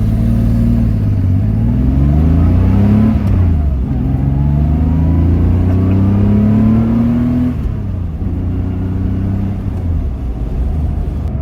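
Air-cooled Porsche 911 being driven, its engine rising in pitch through the gears, dropping between shifts, with the revs climbing again after each change; loud and close from inside the car.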